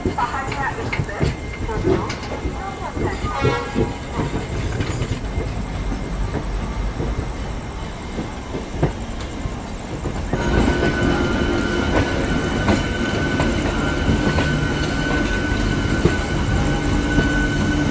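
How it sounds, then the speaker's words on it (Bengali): Paharia Express train pulling out of Howrah station, a steady loud rumble of rolling wagons that swells and grows denser partway through, with faint station voices and clatter early on. "ট্রেন তো ছেড়ে দিল নির্দিষ্ট সময়ে হাওড়া স্টেশন থেকে।"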